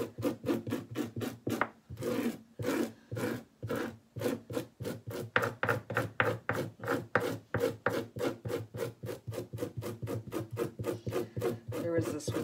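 A blade scrapes scales off sockeye salmon skin from tail to neck, making a long run of rhythmic, rasping strokes at a steady pace, close and fairly quiet, with no talking.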